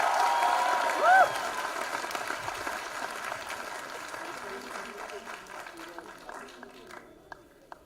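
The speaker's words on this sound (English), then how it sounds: "they deserve a bigger round of applause for being the winners" An audience at a college event applauds and cheers for competition winners, a broad crowd roar with a brief whistle early on, fading gradually, with scattered individual claps and a voice speaking near the end.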